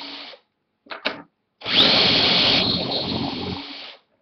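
A power drill bores a hole, a couple of brief bursts followed by a sustained two-second whine that eases off near the end, close and fairly quiet with no talking.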